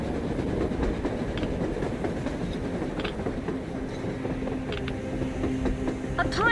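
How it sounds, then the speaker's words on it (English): A train rolls on rails in the Metro Exodus video game, a steady rumbling rush with faint clacking that stays fairly quiet and continuous throughout. "A train! A damn train on the surface!"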